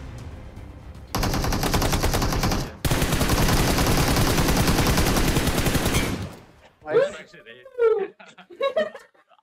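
Rapid automatic gunfire in a battle royale video game roars in two long, dense bursts separated by a brief gap, loud and close. Excited voices follow once the shooting stops.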